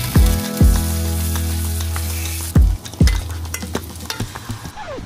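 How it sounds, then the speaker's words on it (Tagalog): Slices of Spam fry in a little oil in a pan with a loud, constant sizzle, broken by four heavy clanks of a utensil against the pan, the last two followed by softer stirring knocks. "Fry ko na yung spam."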